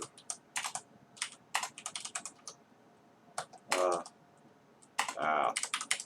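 Typing on a computer keyboard while working on a Raspberry Pi home server, with quick irregular bursts of close key clicks, brief pauses, and a couple of louder clattering runs.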